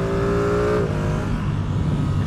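A 2024 Ducati Streetfighter V2 motorcycle engine revs hard on a first ride, a loud, close engine note with a clear pitch that climbs and then drops as the throttle eases, running steadily without speech.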